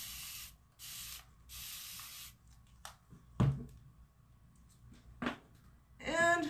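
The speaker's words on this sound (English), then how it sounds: "I'm just going to spray some water on the front." A spray bottle mists water onto a whiteboard in three quick hissing pumps, followed by softer handling knocks and rubbing, with a brief voice at the end.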